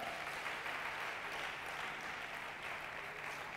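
A church congregation claps together in sustained, even applause that fills the room at moderate distance, heard on its own without voices.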